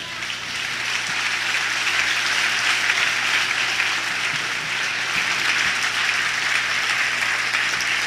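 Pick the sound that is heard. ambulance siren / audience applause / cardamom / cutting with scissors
audience applause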